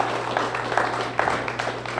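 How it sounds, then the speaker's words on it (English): Modest applause from a small gathering at a schoolhouse reunion, a thin, steady patter of clapping over a low electrical hum, fairly faint and unbroken. "Let's nice round of applause for Marjorie."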